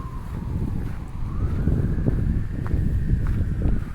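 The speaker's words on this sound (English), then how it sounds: "There's some sirens in the distance, likely an ambulance." An ambulance siren wails faintly in the distance downtown, its pitch slowly rising and falling beneath steady, blustery wind noise.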